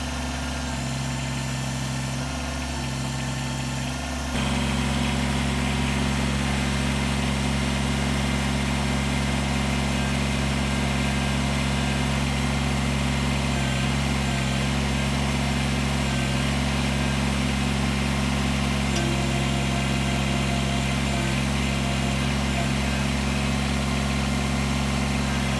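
A Kubota BX compact tractor's engine runs steadily while its front loader works, giving a constant mechanical drone with a strong low hum. The pitch and load shift slightly partway through, heard close up throughout with no talk.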